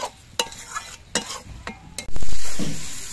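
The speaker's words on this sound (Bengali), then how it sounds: "এবার আলু দিয়ে মশলা দিয়ে আরো কিছুক্ষণ কষিয়ে নিতে হবে।" Potatoes, onions and spices sautéing in a pan with a few spatula strokes, then a loud sustained sizzle as more goes in, close and alone.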